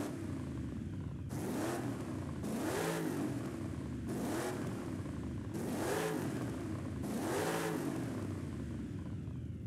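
A Mercedes-Benz X-Class X250D engine in Forza Horizon 5 revs up and falls back repeatedly, five rising-and-dropping pulls in a steady rhythm, clear and fairly close with a synthetic game-like tone.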